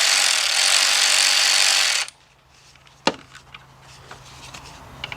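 A loud, dense burst of ratcheting on a Kia/Hyundai engine as 10mm bolts are loosened stops abruptly. Quiet workshop handling follows, with one sharp metallic click and a few soft taps.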